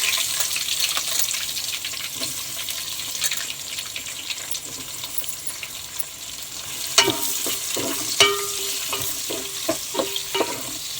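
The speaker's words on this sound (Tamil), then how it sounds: "ஏலக்காய் எல்லாத்தையும் போட்டு பொரிஞ்ச உடனே வெங்காயம் போட்டுக்கலாங்க" Onions sizzle steadily in hot oil with cardamom, a continuous frying hiss with occasional sharper crackles and clinks from stirring, while cooking chicken biryani.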